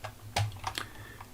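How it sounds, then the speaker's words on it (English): Computer arrow keys clicking as a model is rotated in SolidWorks: a few sharp, close taps at an irregular pace over a steady low hum, with no voices. "Clicking noise you hear are my arrow keys that I use to do the rotation in SolidWorks."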